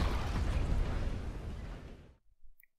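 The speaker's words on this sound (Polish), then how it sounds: "Naciśnięcie spustu i strzał." A single loud gunshot sound effect in a Polish audiobook about a Red Dead Redemption 2 duel, a sharp blast with a long rumbling echo that fades over about two seconds.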